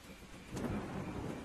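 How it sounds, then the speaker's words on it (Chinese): Rain falls steadily outside with a low thunder rumble swelling midway, the weather in a night-shift laundromat horror game, heard on its own with no talk. "外面除了下点小雨"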